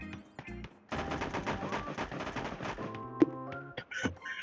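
Rapid gunfire in the mobile battle royale game Sausage Man, a dense burst of automatic shots mixed with game music and effects, loud and continuous over a few seconds.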